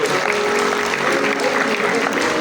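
An awards ceremony audience applauds steadily and loudly throughout, a dense unbroken wash of many hands clapping, with faint voices mixed in.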